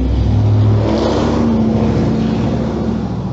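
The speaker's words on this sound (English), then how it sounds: "truck get by with the loud exhaust" A truck with a loud exhaust rumbling past outside at close range, a steady deep engine drone for a few seconds with no talk over it.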